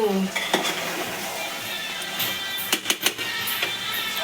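Mutton with peas and potatoes cooking in a pot, with steady sizzling and stirring plus the clatter of a utensil against the pot, a few sharp knocks standing out near the end.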